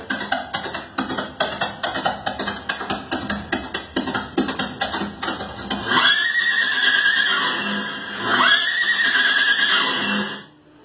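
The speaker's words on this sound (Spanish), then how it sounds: "al terminar el segundo relinchido, era la señal de que entraba la canción" A rapid run of galloping hoofbeats, then a loud, long horse neigh followed by a second whinny, from the recorded intro that opened a band's live shows, with the final call fading at the end.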